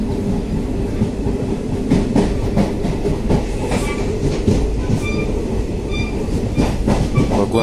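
Steady clatter and rumble inside a moving, nearly empty train carriage in India, with continuous rail noise and rhythmic wheel clicks, loud and close, and no talking.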